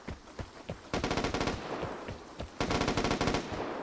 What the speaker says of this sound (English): Oh shit, gunshots.